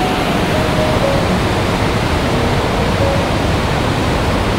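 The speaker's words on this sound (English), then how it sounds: "Never seen the waterfalls this strong before." Steady, dense roar of rushing water, loud and continuous throughout, like a powerful waterfall close by with no pauses, in the Lake District in autumn.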